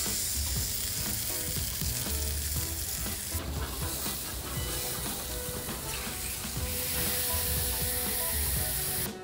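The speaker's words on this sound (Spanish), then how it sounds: "esa música que despide la carne con su parrilla cuando toca el fuego" Beef ribeye sizzling over a charcoal parrilla at an Argentine asado, a steady dense fry-like crackle and hiss running loud and continuous throughout, with no voices.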